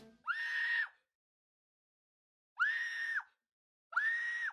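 A man screams three times in a reaction clip, each a sustained, strained yell of about half a second, separated by silent gaps, loud and close with no other sound.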